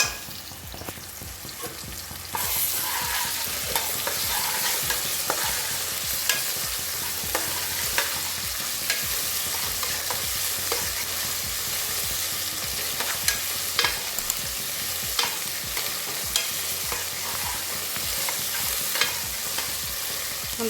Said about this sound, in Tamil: நல்லா போட்டு வதக்கு